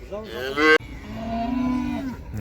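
A cow moos loudly and close by, a long drawn-out low bellow following a short first call, with no talking.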